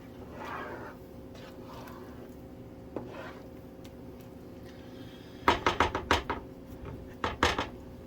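Vegetable barley soup is stirred in a pot, starting with soft wet swishes. A burst of sharp, rhythmic clinks and knocks from a spoon against the pot follows near the end, up close and otherwise quiet.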